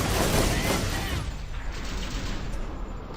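Explosions and gunfire in Borderlands: a loud, dense rumbling blast of noise that fades gradually, with scattered crackling shots mixed in.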